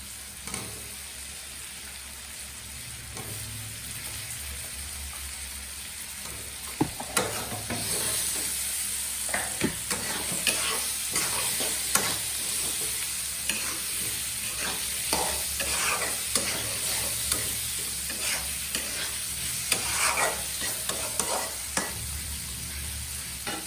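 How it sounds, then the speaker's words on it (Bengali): Potatoes fry in spice masala with a little water for a potato and tomato fish curry, a continuous close sizzle broken by frequent clicks and scrapes of stirring. "এখন আমি দিয়ে দিব আলুগুলো দিয়ে মশলার সাথে ভালো করে কষিয়ে নেব"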